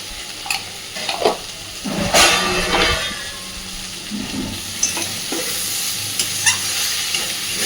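Vegetables and fish roe fry with chili powder while being stirred in the pan, a steady close sizzle broken by scraping stir strokes, one louder burst near the middle, no talk.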